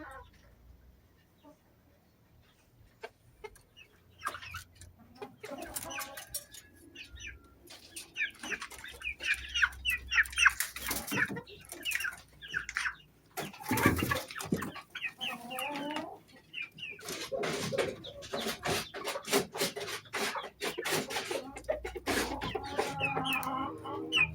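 A white Texas-breed rooster and brown chickens cluck and call close by in a farmyard, starting quiet and building into busy, overlapping clucking bursts.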